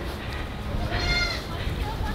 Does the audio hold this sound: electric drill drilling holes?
no